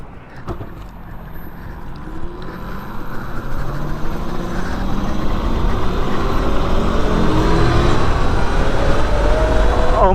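Electric mini motorcycle, a fast Razor-based build, accelerating at full throttle, a rising motor whine and wind roar that builds steadily louder over several seconds.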